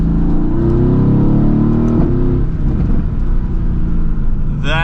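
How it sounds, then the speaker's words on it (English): A 2016 Mercedes-AMG GT S with its exhaust valve open in Sport Plus gives a loud, deep, steady rumble with a rising rev, heard close and continuous. "So we have the valve open on the exhaust, sounding a lot louder."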